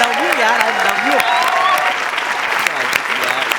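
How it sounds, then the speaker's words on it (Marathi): Loud, sustained applause from a comedy-show audience, dense clapping filling the whole stretch, with a voice and some cheers mixed in. "जोरदार टाळ्या झाल्याच पाहिजेत."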